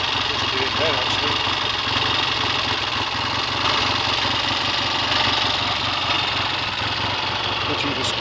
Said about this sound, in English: The slight misfire seems to be clearing all the time.